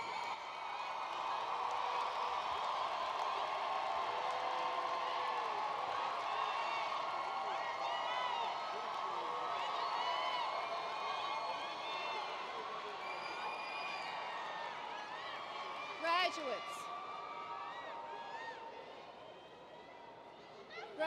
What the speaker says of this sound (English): Graduates, show your appreciation for your family and friends with a rousing round of applause.